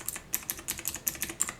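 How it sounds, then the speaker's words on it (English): Clicky mechanical switches on a Razer BlackWidow Chroma gaming keyboard clatter in a quick, steady run of sharp keystrokes, close and fairly quiet, with no voices. "It has the really clicky keys."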